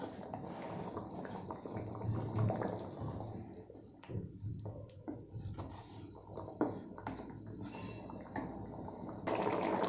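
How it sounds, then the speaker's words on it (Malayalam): Kadai paneer gravy with fried paneer cubes boils in a pan, giving a dense, continuous bubbling hiss with small pops and splutters throughout. "നന്നായിട്ട് തിളച്ച് വരുന്നുണ്ട്."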